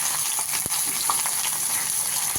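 Shallots frying in coconut oil in a pan over a gas flame, a soft steady hiss with a faint tap or two, no voices.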